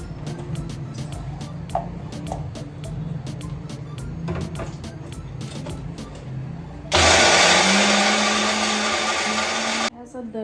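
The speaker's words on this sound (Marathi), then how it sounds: "शेंगदाणे टाकून हे वाटून घेते." Mixer grinder grinding peanuts with salt, a loud dense whirring burst that starts suddenly and runs about three seconds before cutting off, following quieter kitchen clatter and background talk.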